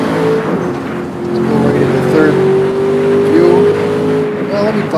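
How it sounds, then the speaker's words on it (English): Race cars drive around a track in the background, a steady continuous engine drone with rising and falling revs, moderately loud and fairly distant, under a faint murmur of voices. "I wanted to have the sound of race cars in the background"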